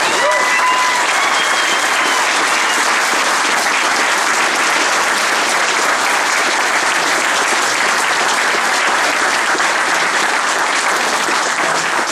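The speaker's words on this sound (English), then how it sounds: "One more round of applause." Sustained, loud applause from an audience at an American Kenpo martial arts promotion ceremony, steady clapping filling the room for the whole stretch.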